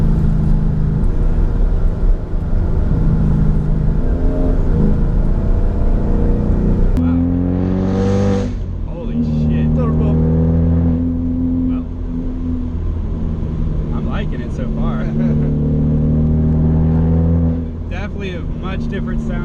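A 2019 Mustang GT 5.0 PP2 V8 engine rumbles and revs on the Tail of the Dragon road, deep tones rising and falling as it accelerates, loud and close, with people talking over it.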